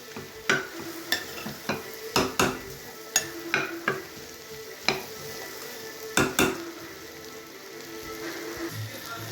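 Mushrooms and vegetables sautéing in a pan with spices for a kurumа, a soft continuous sizzle broken by repeated sharp scraping clicks of a spoon stirring, close and moderately quiet, with no talking.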